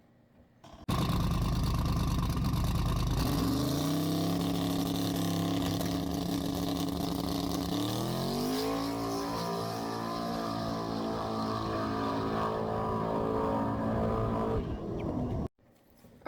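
A 1200hp SBE 4.8 race car makes a drag pass, its engine bursting loud from idle and climbing through sharp rising gear pulls, then holding a strong, steady roar for over ten seconds before cutting off abruptly.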